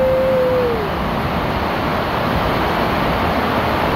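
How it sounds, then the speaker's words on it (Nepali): Strong wind drives heavy rain in Sharjah, a loud, continuous roaring rush with no break throughout and a brief tonal whine at the very start. "कस्तोसँग हावाले हल्लाएको हेर्नु त।"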